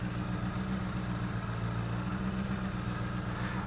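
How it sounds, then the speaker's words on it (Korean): A Honda CBR1000RR sport motorcycle with an aftermarket exhaust idles with a steady, deep, throaty rumble, close by and continuous throughout; no speech. "역시 배기가 되어 있어서 꽤나 소리가 강력합니다."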